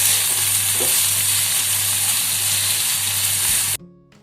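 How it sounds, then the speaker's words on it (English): Chopped tomatoes frying in a pan while being stirred, giving a close, loud, steady sizzle that cuts off abruptly near the end. "Now we'll add 2 roughly chopped tomatoes. Give everything a good mix."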